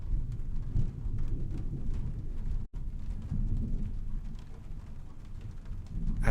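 Steady rain and low rumbling thunder from the adventure game Trüberbrook, a continuous storm bed with one abrupt brief dropout partway through.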